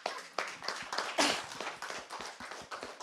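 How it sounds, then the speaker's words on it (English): A small audience at a panel event on Africa's health sector claps for a speaker, with distinct individual hand claps close by in a loose, uneven rhythm of moderate loudness. "So can really we give him a round of applause for that?"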